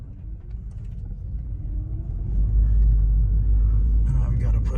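A Lexus CT200h or Toyota Prius hybrid pulls away, its low road rumble and engine hum swelling steadily over a few seconds, heard from inside the cabin with no talking.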